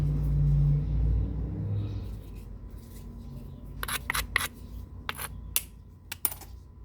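A sandstone hammerstone strikes flakes off a beveled stone edge in flintknapping. A low rumble and handling noise come first, then about seven sharp, close, percussive clicks at irregular intervals.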